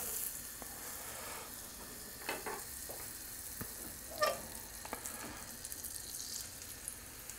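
Butter sizzling in a frying pan gives a steady faint crackle, with a few brief clinks and splashes of stirring over the top and no voices.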